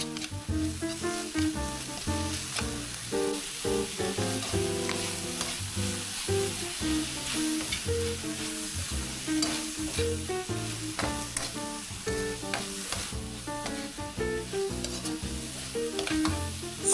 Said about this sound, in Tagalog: So, gisa lang natin siya, tapos iset aside natin